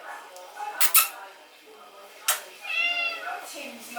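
Outside a house, a person imitates a cat, ending with a drawn-out, wavering mew. It follows a few short sharp sounds and some quiet talking, all fairly close.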